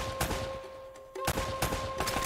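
Rapid bursts of gunfire in Uncharted: Drake's Fortune, sharp repeated shots in quick clusters with a brief lull midway, loud and close over a steady game hum.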